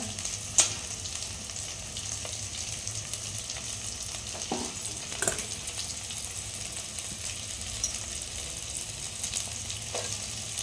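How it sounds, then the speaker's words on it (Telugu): Leafy greens such as mint, spinach, fenugreek and amaranth leaves frying in a pan for a greens rice, producing a steady moderate sizzle with occasional faint stirring scrapes and small knocks, and no talking. "అన్నీ వేసుకొని బాగా ఫ్రై చేసుకోవాలి"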